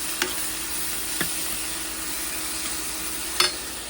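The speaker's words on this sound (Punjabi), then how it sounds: "ਇੱਧਰ ਆਪਣਾ ਮਸਾਲਾ ਭੁੱਜਦਾ" Continuous sizzle of masala spices frying in a pan for a cauliflower and potato dish, close and even, broken by a few soft clicks of stirring; no voices.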